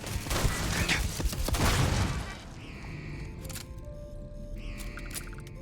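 Gunfire in the space role-playing game Starfield, a dense burst of rapid shots and booms for the first two seconds, then quieter game sounds with rising electronic tones.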